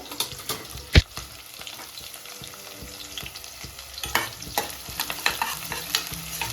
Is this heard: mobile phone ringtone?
no